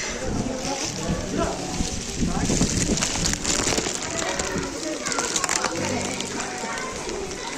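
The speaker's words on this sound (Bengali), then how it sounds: "প্রচণ্ড বৃষ্টি" Heavy rain pours down at Thala Kaveri in Coorg, a dense unbroken roar of drops beating on surfaces. Voices are mixed into the downpour.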